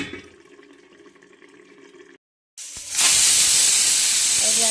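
A kitchen pressure cooker, used for cooking eggs, gives off a faint tonal hum. After a short silence, a loud, continuous rush of hissing steam takes over and holds to the end.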